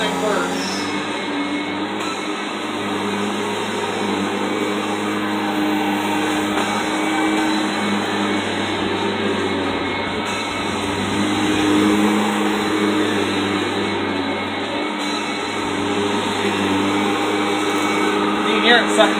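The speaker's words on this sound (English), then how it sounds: "start running the vacuum, guys." A 1991 Kirby Generation 3 upright vacuum cleaner runs steadily in a home, its motor a constant whirring drone with a high whine throughout, suction noise rising slightly near the end.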